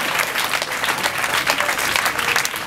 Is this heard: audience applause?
yes